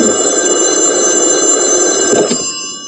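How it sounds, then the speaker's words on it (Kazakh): A telephone bell rings insistently in a cartoon scene, a steady bright trill held for over two seconds before it cuts off and fades near the end. "Ведаңа телефон тұтқасын көтеруді үйретсеңші."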